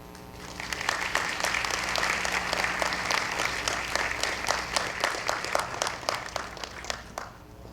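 Applause at a school board meeting for two Teachers of the Month: a room of people clapping steadily, building quickly and holding for several seconds, with some louder distinct claps near the end before it fades.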